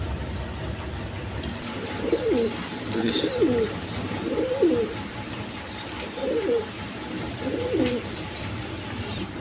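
Pigeons coo in a steady series of five low, warbling calls spaced about a second apart, with faint background noise between them, at a pigeon seller's.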